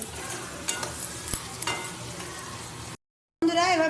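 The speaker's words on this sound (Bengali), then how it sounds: "এটা ভালো করে আমি নেড়ে ছেড়ে কষিয়ে নিচ্ছি" Spices for egg biryani being stirred and sautéed in a pan, a soft scraping and low sizzle with a few sharper clinks of the spoon, quiet and close, cutting off briefly before resuming.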